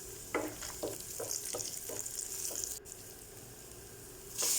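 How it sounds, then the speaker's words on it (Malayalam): Raisins, cashews and almonds fry in a hot pan for a banana snack, giving a quiet, steady sizzle with a few light stirring taps near the start and a brief louder rustle at the end. "ചൂടായി വരുമ്പോൾ അതിലേക്ക് ഉണക്കമുന്തിരിയും അതേപോലെ തന്നെ കുറച്ച് കാഷ്നട്ടും കുറച്ച് ബദാം കൂടെ ചേർക്കുക"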